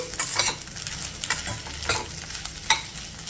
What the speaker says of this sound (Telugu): ఇప్పుడు ఇది వేసిన తర్వాత లో ఫ్లేమ్లో ఒక నిమిషం ఫ్రై చేసేసుకోవాలి